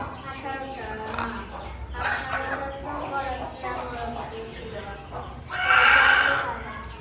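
Native country chickens cluck repeatedly nearby on a farm with people talking over them, and a louder, sharper call rises near the end.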